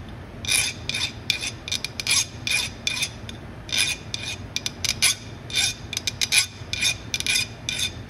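Hand file rasping burrs off an aluminum workpiece beside a Tormach 8L lathe, heard as repeated short, bright scraping strokes in an uneven rhythm, close and fairly loud with no voices.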